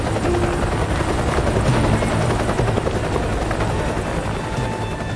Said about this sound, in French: Un sauveteur est sorti de l'hélicoptère pour attraper Nikki Phelps